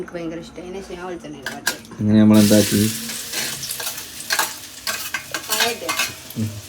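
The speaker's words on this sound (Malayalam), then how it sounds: "വെളിച്ചെണ്ണ ചട്ടിയിൽ ഒഴിച്ചിട്ട് കുറച്ച് പഴം ഇടുക" Ripe banana frying in coconut oil in a home kitchen pan, a loud burst of sizzling with a utensil scraping and clinking against the pan as it is stirred, continuing under occasional background voices.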